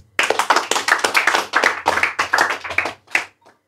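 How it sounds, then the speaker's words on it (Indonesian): A lecture audience claps in a rapid, fairly uneven burst of many hands close by, loud and crisp, then trails off into a few last scattered claps before stopping. "Tepuk tangan."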